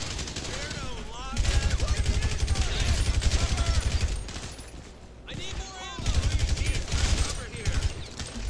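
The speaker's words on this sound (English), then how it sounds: "We got heavy automatic gunfire up here." Sustained bursts of heavy automatic gunfire in the PC game LSPD First Response during an armored car robbery, loud and rapid, pausing briefly before another long volley; a voice speaks over the shooting.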